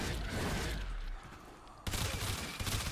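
Coda Hema burst-fire weapon shooting in Warframe, rapid rattling bursts of shots with a short break before another burst, fairly quiet, no talking.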